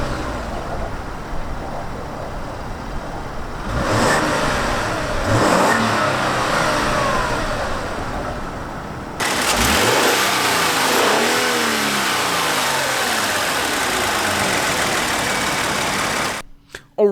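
A 2017 Genesis G90's 3.3-liter twin-turbo V6 starts up and idles, then revs in several rising and falling sweeps, close and fairly loud, with a brief engine burst before cutting off at the end.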